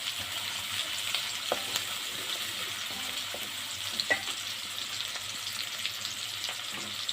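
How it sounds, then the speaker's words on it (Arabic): Onion frying in oil or ghee in a pan, a soft steady sizzle that keeps up throughout with a few faint stirring clicks and no talking. "ندبل بقى البصلايه كده مع بعض"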